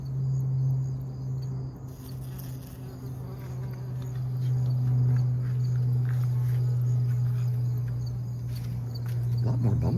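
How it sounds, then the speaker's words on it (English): Bumblebees buzz in a morning garden in a steady, close drone that holds for the whole stretch, with light rustling and faint background sounds beneath. "A lot more bumblebees this morning."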